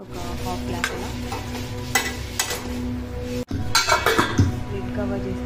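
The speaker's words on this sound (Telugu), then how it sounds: "వేసుకుని మిక్స్ చేసుకొని కాస్త వాటర్ పోసుకొని ఒక హాఫ్ గ్లాస్ అలా" Beans fry being stirred in a pan after water is added, with a spoon scraping and clinking against the metal over a steady sizzle, close and fairly loud, with a sharper burst of bubbling near the end.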